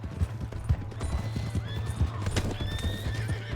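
In the video game Red Dead Redemption 2, a horse gallops with rapid, rhythmic hoofbeats close by, snorts and whinnies over them, and a voice is heard briefly.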